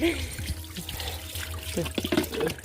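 Water soaked with mustard cake poured onto plants in a rooftop garden, a close, splashy trickling and gurgling stream that swells toward the end, with faint background voices.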